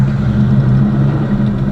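A Box Chevy car engine idles close up, a steady loud low rumble with a deep even throb throughout, no talk.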